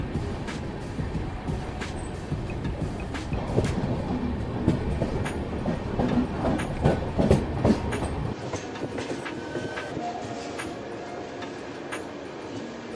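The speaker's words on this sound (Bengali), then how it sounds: "আমাদের ট্রেন এখন ডিপার্চার নিল ভদ্রক রেলওয়ে স্টেশন থেকে" The Puri Kamakhya Express moving out of Bhadrak railway station, heard from inside a coach as rumbling wheels and a rapid clickety-clack on the rails. The sound builds loud and close, then the rumble drops away near the end.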